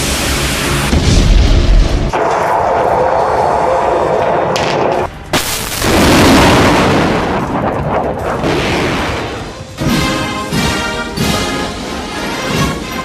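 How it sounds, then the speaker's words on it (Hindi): A Russian missile launching from a launch pad, a loud, sustained roaring blast with deep rumbling that surges, briefly drops away, then returns and trails off, with no voices. "लॉन्चिंग पैड से परमाणु मिसाइल की लॉन्चिंग से"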